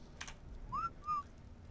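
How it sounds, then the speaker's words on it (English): Two short rising whistled notes from a person playing Ark, quiet and close, preceded by a faint tap or click. "uh-oh, I just whistled."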